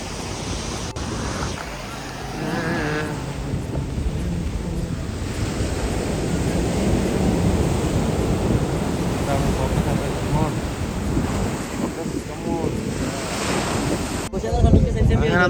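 Sea waves wash steadily onto a newly opened beach in Ajman, a continuous surf roar mixed with heavy wind buffeting the microphone, with no voices.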